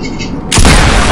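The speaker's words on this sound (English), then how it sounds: "I shouldn't have shot that. That was an accident." A single loud gunshot in a video game, a sudden heavy boom cutting in midway and ringing out in a broad, sustained roar.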